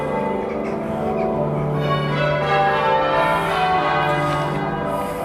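Church bells ring continuously at a town church, a steady, fairly loud peal of overlapping tones with no break and no voices.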